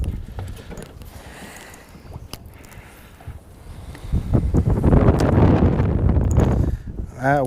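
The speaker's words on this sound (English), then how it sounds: "That wind is ripping." Strong wind buffets the microphone while fishing outdoors, with soft gusts early on building into a loud, sustained rushing roar near the end.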